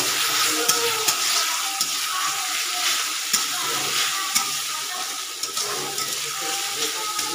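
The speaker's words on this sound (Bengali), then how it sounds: "2 থেকে 3 মিনিট এটাকে একটু নাড়াচাড়া করে নেব।" Chili paste fries and sizzles in a pan for Bengali-style chicken khichdi, with a steady bright hiss and the scrape of a spatula stirring it now and then, close and continuous.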